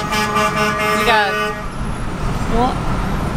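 Truck horns honk in a drawn-out, harmonic blast from several rigs at a car gathering outside a garage, loud and close at first, then a shorter honk follows after a pause over steady traffic rumble.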